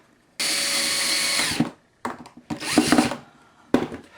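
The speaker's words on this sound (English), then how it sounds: "I'm going to use 1 5/8-inch screws to attach these" A power drill drives 1 5/8-inch screws into a wooden guitar stand through pre-drilled pilot holes, with a loud steady whir followed by shorter straining bursts as the screw seats, close and without talk.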